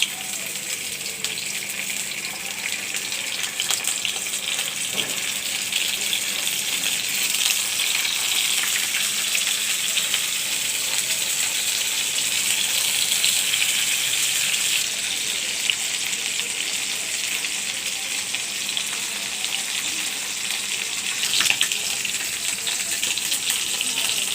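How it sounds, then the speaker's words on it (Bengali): Tilapia fish frying in hot oil, a loud, dense and continuous sizzle that holds steady with slight surges and no voices. "তো আমি এখন তেলে তেলাপিয়া মাছ দিয়ে দিচ্ছি। এখন এইগুলো আমি তেলে ভাজবো।"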